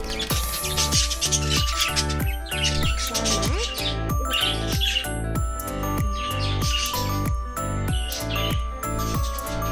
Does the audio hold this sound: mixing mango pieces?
no